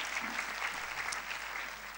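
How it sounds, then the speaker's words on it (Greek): An audience applauds volunteers at a talk on connecting body, mind and thoughts, with steady, dense clapping from a crowd throughout and no voices. "Ένα χειροκρότημα για τους εθελοντές μας."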